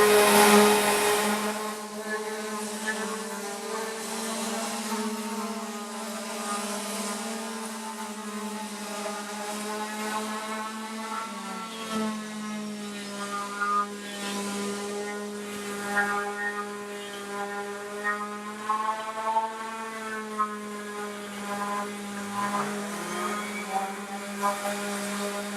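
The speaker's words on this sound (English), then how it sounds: "We also have a vacuum on to take fine particulates of the air." A workshop vacuum drones steadily at a strong, even pitch, its whine holding constant throughout with slight wavering, loud and close.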